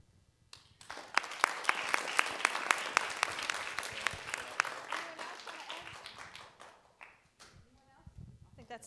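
Round of applause from a crowd of kids and adults at an LA Galaxy event, dense clapping with a few sharp individual claps that builds quickly and then thins out, with some talk over it.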